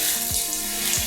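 Tap water running steadily and splashing in a sink while an air conditioner filter is rinsed, a continuous close hiss.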